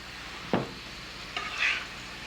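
Beef going into a pan of hot oil, a soft background sizzle with a couple of brief clunks and a short burst of hissing as the meat hits the oil.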